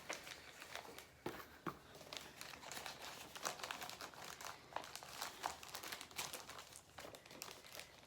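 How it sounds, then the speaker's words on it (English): Small plastic bags crinkle and rustle continuously up close as fabric is packed away into them, a soft, busy crackling with irregular louder crunches throughout. "If I didn't insist on putting everything back in its stupid little plastic bag, might go faster."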